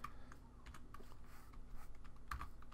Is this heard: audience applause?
no